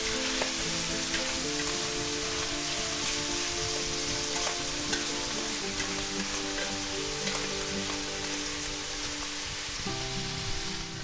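Mushrooms sizzle steadily in a pan of garlic butter as they are stirred, a constant close frying hiss with light scraping over a low hum, no voices.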